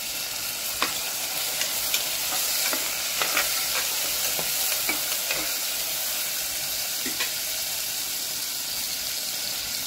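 Chopped onion and tomato, with peas and spiced minced meat to follow for khichdi, stirred as they fry in a pan: a steady close sizzle broken by repeated scraping knocks from stirring.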